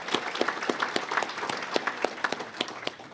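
A luncheon audience claps for a county budget event speaker, a brisk burst of moderately dense applause from a modest crowd, close and steady for a few seconds.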